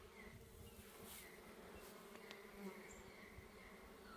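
Honeybees hum steadily around beehives just moved a few yards, a faint continuous buzzing drone with occasional individual bees passing closer, recorded outdoors with no speech.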